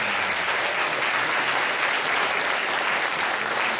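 A dense, steady round of applause from an audience at a youth church festival, loud and continuous throughout with no voices rising above it.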